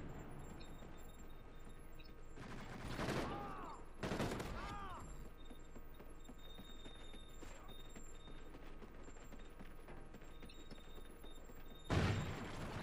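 A PDW gun firing in Call of Duty Ghosts, with several short bursts of rapid shots standing out from low background game noise, the loudest burst near the end.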